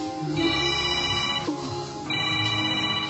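A telephone ringtone rings on unanswered, its repeating electronic tone pattern continuing loud and steady with a short break in the middle, heard without talking.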